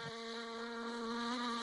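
A fly buzzes in a steady, sustained high drone, close and clear, holding level with only slight pitch wobble from start to finish.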